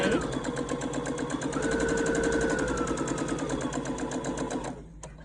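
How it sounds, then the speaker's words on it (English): A sewing machine stitches fabric for reversible placemats, running forward and then in reverse with a fast, steady mechanical whir and needle chatter, close and fairly loud, stopping abruptly near the end with a small click. "I'm going to go forward 3 stitches, and then I'm going to go backwards."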